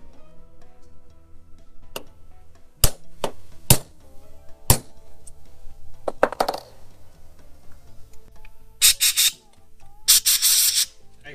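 Bowl vents pressed by hand into an Edelbrock VRS-4150 carburetor body on a workbench: sharp metallic clicks and taps scattered through the span, then two louder bursts of scraping, rubbing contact near the end, close and dry with no talk.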